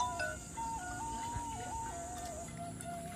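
A tinny electronic melody plays in a simple looping tune, like a phone ringtone, over a faint background hum.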